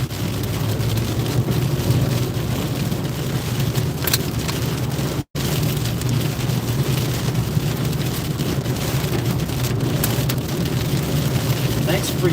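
Heavy rain drums steadily on a car's skylight windows during a drive, a dense continuous hiss and patter with low road rumble underneath and a momentary break partway through.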